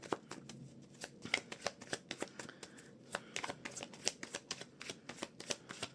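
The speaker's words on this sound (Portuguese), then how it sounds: "Vamos lá, embaralhar muito bem." Tarot deck shuffled by hand at close range, a steady run of crisp riffling and snapping card bursts repeating for several seconds with no talking.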